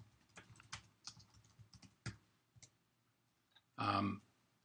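Fingers type a name on a computer keyboard: a quick, uneven run of light, close key clicks, then a brief pause and one louder, longer clack at the end.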